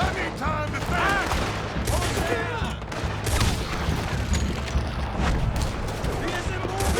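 Gunfire rattles through a Red Dead Redemption 2 shootout, with rapid bursts and repeated shots layered under excited shouting voices in a dense, continuous firefight.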